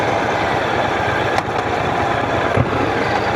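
A 1200cc motorcycle engine runs steadily at low speed in city riding, giving a continuous, even rumble with a faint brief rattle now and then.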